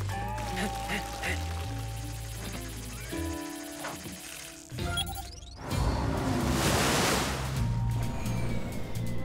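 Cartoon water cannons on a boat blasting water, a broad hissing spray that bursts in after musical sound and shouted cartoon voices, loud and sustained to the end.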